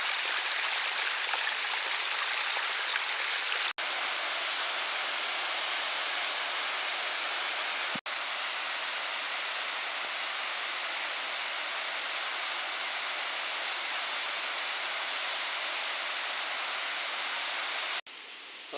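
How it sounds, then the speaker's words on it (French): Mountain stream water flows steadily along a hiking trail to a refuge, a continuous broadband rush with no pauses apart from two short cuts, unbroken and fairly close. "Et toujours de l'eau."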